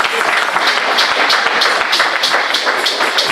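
A church congregation at a youth gathering claps in praise of the Lord, with loud, close, steady rhythmic clapping from many hands throughout.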